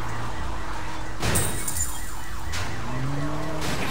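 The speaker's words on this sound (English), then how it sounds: "Alarm! Alarm!" Car alarm in the video game Sleeping Dogs, a loud electronic warbling alarm running steadily throughout, mixed with game engine and street noise, with a sharp burst partway through.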